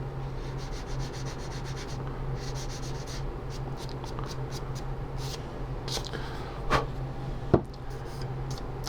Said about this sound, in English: then you just want it to sand smooth so it makes a nice transition between that new primer and the old paint